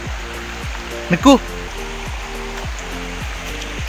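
Rushing water of a waterfall roars as a steady broadband wash, with a brief voice cutting in near the middle and a low periodic hum running underneath.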